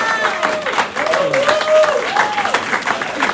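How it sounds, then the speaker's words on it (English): A campaign launch audience claps steadily throughout, and a voice speaks over the applause now and then. "Keep the applause going."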